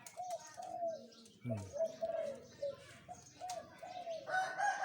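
A caged turtle dove about thirteen months old, hung on a coconut palm in front of a house, gives repeated soft, rounded coos in short phrases, fairly close and moderately quiet against an outdoor background.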